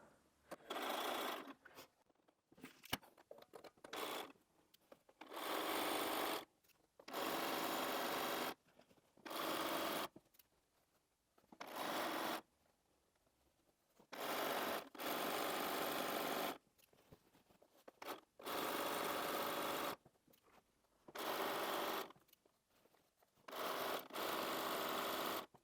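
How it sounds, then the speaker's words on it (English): A sewing machine stitches a long seam joining sashing and cornerstones on a rail fence quilt, running in steady loud bursts separated by short pauses. "let's take that to the machine and sew all the way along"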